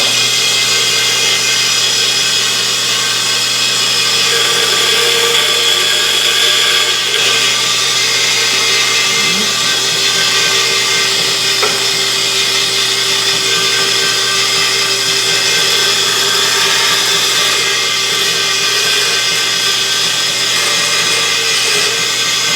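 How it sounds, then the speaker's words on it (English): A bandsaw cuts a guitar neck blank for a 335-style kit, a loud, constant whirring drone with a steady motor hum underneath that runs without break for over twenty seconds, close by and free of speech. "Maybe I'll actually do some of this on the bandsaw real quick."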